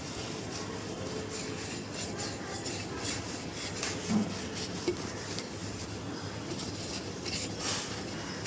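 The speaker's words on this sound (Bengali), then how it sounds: "তো এবার দেখাচ্ছি আমি একটা ভালো শুকনো কাপড় দিয়ে ভালো করে ঘষে নিতে হবে।" Dry cloth scrubbing a Pitambari-polished item produces a steady, gritty rasp of rapid repeated strokes, near and even in level, with a couple of brief knocks midway and no voices.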